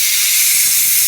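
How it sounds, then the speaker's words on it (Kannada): A pressure cooker hisses and whistles while avarekalu (field bean) sambar cooks, a loud, continuous, steamy rush with no talking over it. "ಅದಕ್ಕಾಗಿ 1 ವಿಸಿಲ್ ಹಾಕ್ಸ್ತೀನಿ ನಾನು"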